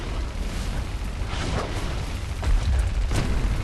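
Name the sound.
missile hitting the warship in the video game Warship Mobile 2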